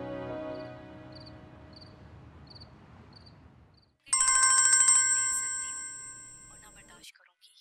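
Phone ringtone in a Pakistani TV drama scene: a soft repeating chime first, then a loud electronic ring for about three seconds before it cuts off.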